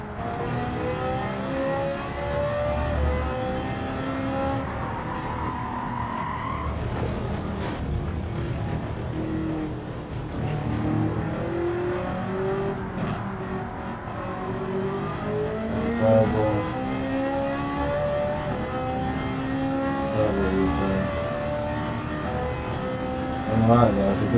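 Race car engine in Gran Turismo at the Sardegna circuit, revving and shifting through gears with rising and falling whine, continuous and loud, with someone talking over it.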